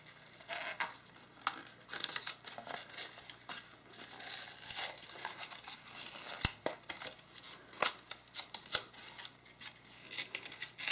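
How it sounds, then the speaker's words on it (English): Plastic packaging of an iPhone 4S bumper case is ripped and torn open by hand, with crinkling, snapping and scraping in close, irregular bursts over several seconds. "you just rip this part open"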